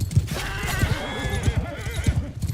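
A horse in the Mount and Blade Bannerlord battle game gives a loud, shaky neigh as it dies amid battle noise, with hoofbeats and clashing underneath, close and dense throughout.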